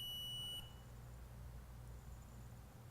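A Bevins/CHANCE 2915 auto-ranging voltage indicator gives one short, high startup alarm beep. The beep is faint and close and stops abruptly, leaving a low steady hum.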